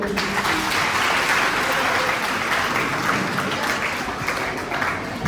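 Dense applause from an audience at a prize-giving program for girls and women, continuous clapping that swells and eases slightly, with a voice faintly mixed in.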